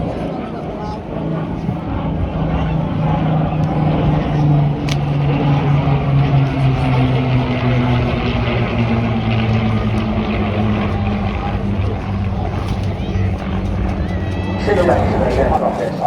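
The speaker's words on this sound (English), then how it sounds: "The unchanging shape of the Spitfire, passing that way" Spitfire aircraft passing at the Southport Airshow 2024, a loud sustained engine drone with a slowly falling pitch as it goes by, alongside an announcer over a public address.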